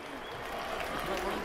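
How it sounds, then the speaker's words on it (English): A crowd applauds in an arena after an MMA cage fight between Fedor Emelianenko and Antonio 'Bigfoot' Silva, a dense steady wash of clapping under an announcer's loud voice. "let's give them a round of applause for leaving their all in the cage"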